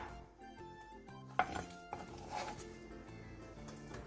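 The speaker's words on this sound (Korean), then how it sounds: "양파 2분의 1개를 채 썰어주세요" A knife slices half an onion into thin strips, making a few faint, scattered taps on a cutting board. Soft background music plays underneath and no one talks.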